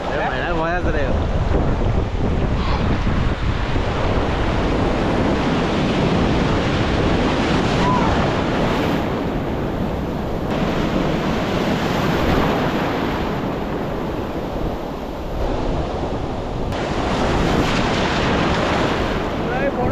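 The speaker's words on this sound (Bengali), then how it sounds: "ঢেউটা ধরে আমার কাছে চলে এলো" Sea waves break on the beach at Puri in a steady, loud wash of surf that runs the whole time, with gusts of wind buffeting the microphone and no clear talk.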